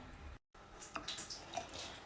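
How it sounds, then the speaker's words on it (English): Cold water poured into a large glass jar half full of white tea leaves, a splashing, trickling pour with small drips, briefly cut off at one point and then continuing, with no one speaking. "I'm going to just pour some cold water onto it"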